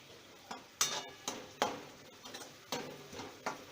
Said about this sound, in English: going to fry for a while